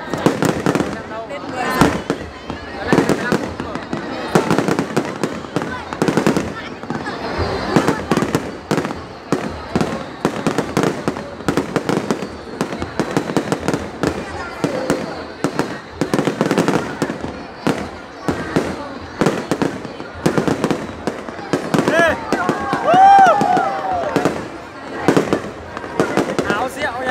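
A chain of fireworks bursts at the 2018 Hai Phong red flame flower festival in Vietnam, a dense rapid series of cracks and booms echoing throughout, with people talking and calling out beneath the barrage.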